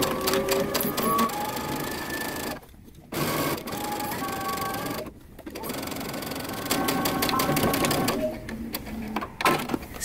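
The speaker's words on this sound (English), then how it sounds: "Then we're going to stitch down using 5/8 of an inch seam allowance." Sewing machine stitching the inseams of wide-leg pants with a 5/8-inch seam allowance, bursts of fast rattling stitching broken by two brief pauses, the motor whir close and continuous between stops.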